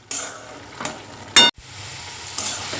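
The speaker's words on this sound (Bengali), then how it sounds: "নুনটা দিয়ে ভালো করে একটু নাড়াচাড়া করে আবার চাপা দিয়ে দেবো" Spinach frying in a pan with salt is stirred, giving steady sizzling broken by several scraping strokes and one sharp, loud clatter partway through, with no talking.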